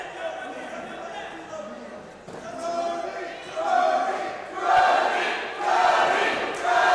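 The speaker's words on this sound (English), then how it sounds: "crowd getting behind Brody Folks" Fight-night crowd at a combat sports event cheers for a fighter in rising, swelling waves of shouting and chanting, distant and roomy, with a commentator talking over it.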